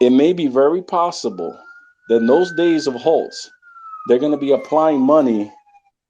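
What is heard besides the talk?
No distinct noise like a dog, phone or traffic.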